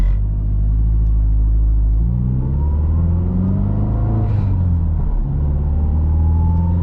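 A modded Mazdaspeed car is driven along a road, its engine droning steadily from inside the cabin with a low rumble that climbs and falls in pitch as it accelerates and shifts.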